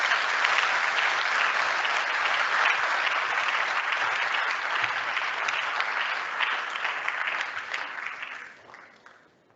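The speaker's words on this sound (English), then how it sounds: "Let's give her a warm round of applause and the panel as they join us here on stage" A conference audience applauds as a panel joins the stage, with steady dense clapping that carries on for several seconds before thinning and fading out.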